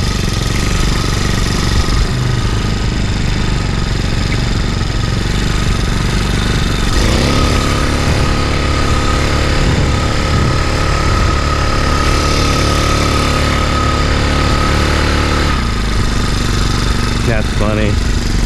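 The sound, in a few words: motorized fat bike engine spinning tire in beach sand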